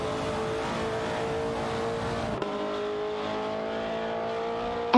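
Race cars, including a Cheetah GT and a Mercury Cougar, drive in a racing video game, their engines droning in steady layered tones that shift in pitch partway through, loud and continuous without speech.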